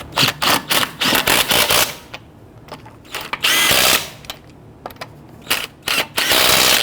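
An impact wrench or power driver snugs down the lug nuts on a 2011-2017 Nissan Quest front wheel in loud, close bursts of rattling hammering, separated by short pauses and ending with a longer final burst.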